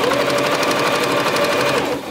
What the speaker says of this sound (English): And I'm just going to keep sewing